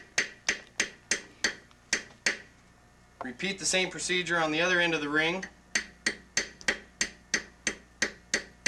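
Sharp, evenly spaced hammer taps strike the ends of a Rainsflo cloth sealing ring, about two per second. Someone talks briefly in the middle before the tapping resumes.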